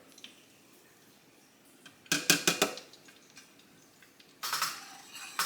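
A utensil stirs flour into melted butter in a pan for a giblet gravy roux, giving bursts of quick scraping clatters against the pan, close and separated by quiet pauses.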